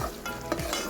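Chicken stirred in a pan with ginger-garlic paste and onion, giving a steady close sizzle with scraping stir strokes, no voices.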